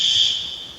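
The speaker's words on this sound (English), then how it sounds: "The fire alarm." Fire alarm sounding in a vacation home, a loud piercing high electronic tone held briefly and then fading, close by with no voices.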